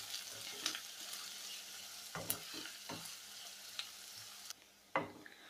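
Chopped onion fries in hot oil in a pan, making a steady, fairly quiet sizzle with scattered crackles and a few stirring scrapes, and no voice.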